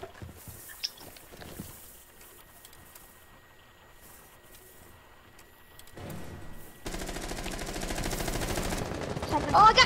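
Rapid bursts of automatic gunfire from the Rainbow Six Siege video game, loud and dense toward the end after a quieter stretch of faint in-game clicks and ambient noise.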